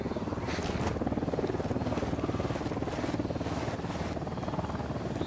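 An enemy helicopter in the Ghost Recon Wildlands video game thrums with a steady, rapid rotor chop that stays loud and constant throughout, with no voices heard.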